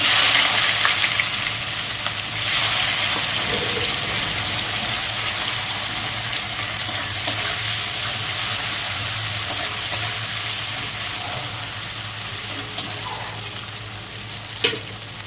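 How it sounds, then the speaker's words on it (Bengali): Garlic and onion frying in hot oil in a pan, a loud continuous sizzle and hiss with a few sharp crackles near the end. "তেলে আমি কটায় রসুন দিয়ে দিচ্ছি দেবো পেঁয়াজ"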